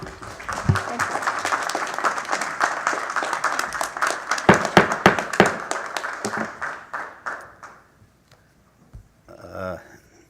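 Audience applause at a city council meeting in Thorold, a burst of many hands clapping loudly for several seconds, thinning to scattered claps and fading, then a brief second flurry near the end.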